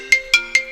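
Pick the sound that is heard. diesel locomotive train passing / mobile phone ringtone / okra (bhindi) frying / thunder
mobile phone ringtone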